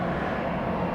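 Boeing 737 jet at Atlanta Hartsfield airport, a steady broad engine roar filling the moment at moderate loudness, with no voices.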